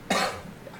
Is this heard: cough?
yes